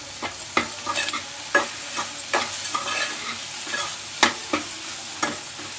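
Okra is stirred in a hot pan with chili powder and rock salt for a tangy curry, a steady sizzle punctuated by repeated sharp scraping and clanking spoon strokes, heard close.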